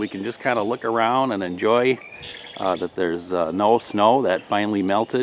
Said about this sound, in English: You can hear all kinds of birds in the background.